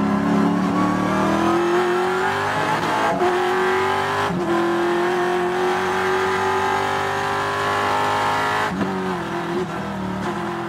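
Trans Am race cars at full throttle on the Sonoma circuit, including a Ford Mustang, with a loud, continuous engine roar and brief dips in pitch as gears change.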